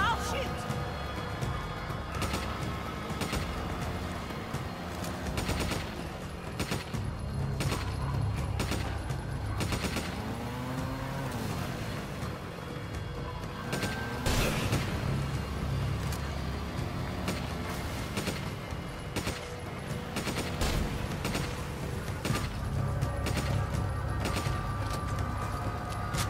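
Repeated gunshots in Resident Evil 5, scattered sharp cracks through a busy game soundscape, with voices talking throughout.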